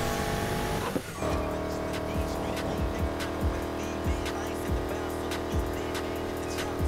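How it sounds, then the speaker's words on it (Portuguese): A racing car in Need for Speed Heat holds a loud, steady engine roar with brief tire squeals and a short dip before the engine surges again, accompanied by regular rhythmic thumps. "O carro é potente e rápido demais, ó."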